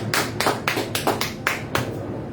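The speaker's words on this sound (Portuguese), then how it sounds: "Aplauda o Senhor." A church congregation applauds at the close of a service, with a few distinct rhythmic claps about every quarter second, fairly faint and slightly distant.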